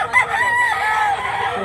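A gamecock at a rooster sale in Mantalongon, Cebu, crows loudly and close by in one strained, drawn-out call with a hoarse, raspy edge.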